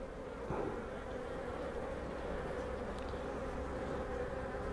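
Honeybees buzzing steadily around an open hive, a dense continuous hum at moderate distance with no pauses.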